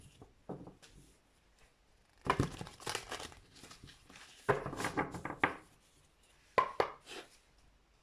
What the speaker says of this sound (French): Alors, on va recouvrir ces cartes.